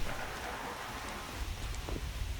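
Steady rain falls in the open-world survival game Prologue: Go Wayback!, a constant even hiss with faint low rumble and no voices.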